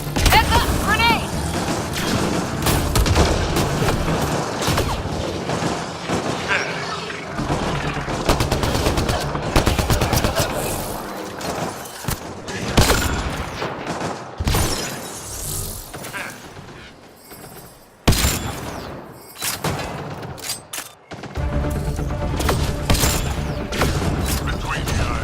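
Combat in Mass Effect: Andromeda on PS4: bursts of rapid automatic gunfire, heavy booms of a grenade blast and weapon mechanisms, dense and loud, with brief lulls and voices talking over the fighting.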